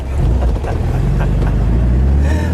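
A 1974 Porsche 914 with a 1.8-liter engine runs steadily at close range, a low continuous hum with slight rises in revs and no voices.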